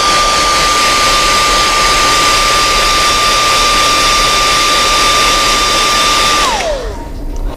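Heat setting paint on a soft plastic swimbait with a loud, steady blower roar and a faint whine that runs close and unbroken, then winds down and cuts off near the end.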